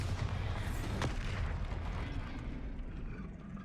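A Bombarda spell explosion in Hogwarts Legacy: a dense, loud blast with heavy low rumble, a sharp burst near the one-second mark, and a long booming decay that fills the whole stretch.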